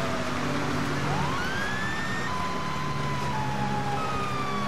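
Police car sirens in the video game GTA 5, several wailing tones rising and falling over a steady engine and traffic rumble, moderately loud with no voices.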